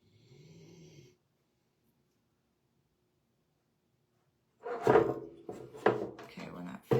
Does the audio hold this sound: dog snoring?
yes